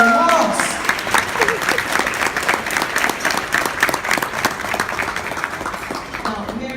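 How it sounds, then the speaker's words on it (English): A retirement banquet audience for Chief Delrish L. Moss breaks into loud, sustained applause. Many hands clap close and continuously, and a voice comes through over the clapping before it thins out at the end. "let's give a round of applause for Chief Delrish L. Moss"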